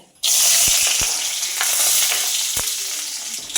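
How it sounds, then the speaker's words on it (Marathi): Onions dropped into hot oil for a spicy pumpkin bhaji burst into a loud, close, steady sizzle, broken by a few soft knocks of stirring. "अगोदर कांदे टाकूया आपण थोडेसे पहिलं कांदे आपल्या ह्याच्यावर टाकायचे"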